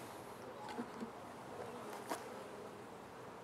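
Bees buzzing close around a beekeeper's veil during a hive inspection, a faint steady drone with a few brief sharper buzzes as insects bounce off the mesh.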